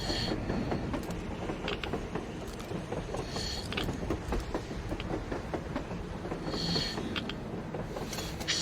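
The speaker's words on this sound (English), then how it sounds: "A train! A damn train on the surface!" Train travelling on the surface in the video game Metro Exodus, a steady rolling rumble with repeated clickety-clack beats and occasional metallic squeals, heard alone.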